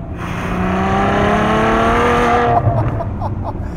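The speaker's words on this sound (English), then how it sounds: "It's a terrific intake growl, and then just this snarl through the exhaust pipes." A 2013 Ferrari F12 Berlinetta V12 engine revs loudly with a rising intake growl and exhaust snarl, then cuts abruptly to lower, rougher idling bursts near the end.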